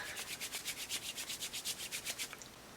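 White foundation being rubbed into skin with fast back-and-forth strokes, a close, soft rhythmic swishing of about a dozen even passes that slows and fades at the end.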